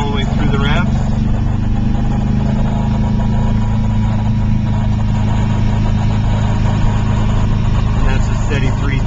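A 1972 MGB GT engine hums steadily at a constant 3,000 rpm from inside the cabin, with a low droning tone and road noise throughout.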